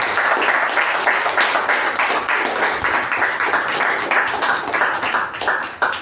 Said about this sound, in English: For that, can we have a special round of applause?